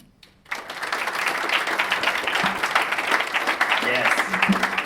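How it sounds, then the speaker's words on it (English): An audience at a talk on zoning and American cities breaks into applause after a brief quiet moment, the clapping swelling quickly and holding as a thick, even roar of many hands. "Was going to ask for a round of applause, but you're way ahead of me."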